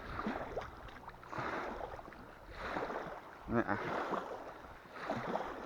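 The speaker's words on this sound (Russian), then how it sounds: "Опять прошла моторочка" A small motorboat passes along a river at a village fishing spot where night lines are set for burbot, its engine drone swelling and fading at moderate distance amid wind noise, with someone talking quietly.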